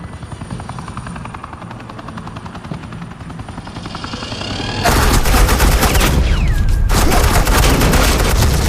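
Agent Quinn's suppressing gunfire in Batman: The Enemy Within, a loud, dense stream of rapid shots bursting in midway over a constant helicopter rotor drone.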